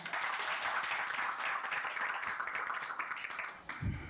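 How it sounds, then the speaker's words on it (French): Applause from an audience clapping for itself at a live event, a steady broadband wash of many hands sustained for about four seconds, fairly loud and continuous before easing slightly near the end. "Applaudissez pour vous-même."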